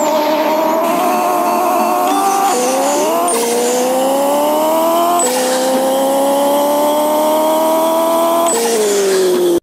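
A 3500-horsepower car in the Pixel Car Racer video game, with the stock gearbox, revs hard through its gears, its engine note climbing repeatedly and dropping at each quick shift, loud and continuous with faint tire squeal.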